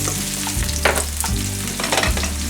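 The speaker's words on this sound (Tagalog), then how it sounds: "in the same pan, let's saute the onions" Onions sautéing in a pan that was just used for chicken, giving a loud, close, steady sizzle with spatula scrapes and clatters over a low hum.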